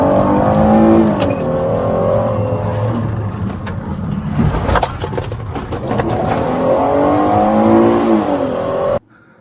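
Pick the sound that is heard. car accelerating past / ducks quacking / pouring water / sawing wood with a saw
car accelerating past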